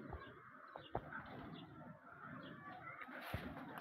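A flock of tumbler pigeons takes off and flies, giving a faint, distant outdoor wash of wingbeats and a soft coo, with occasional sharper flutters over low background rumble.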